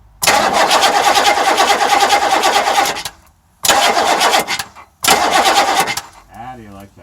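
A 6.2 diesel engine with a new starter cranks in three long, loud grinding bursts separated by short pauses, the last catching with a rising rev, close up, with a voice audible near the end.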